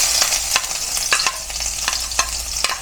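Onions sizzling in an oiled pan as the base for Filipino adobong sitaw, a steady close frying hiss punctuated by sharp scraping stirs of a utensil roughly every half second, no talk.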